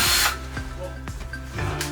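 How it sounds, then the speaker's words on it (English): A power drill whirs in short bursts, drilling a pilot hole into a partition panel in a Ford Transit high-roof van, with brief mechanical clicks between runs, close and fairly loud. "I'll be drilling the pilot hole first"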